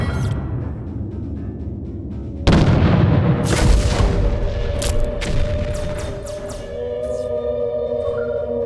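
Cannon fire in the space naval battle game Treasure Planet: Battle at Procyon, a loud deep boom that breaks out partway through and then rumbles over continued blasts and crackling effects.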